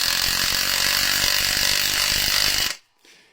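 Cordless impact wrench running on a 12-volt battery, hammering in a loud, rapid, continuous rattle for under three seconds before it abruptly stalls and cuts out, followed by faint background noise.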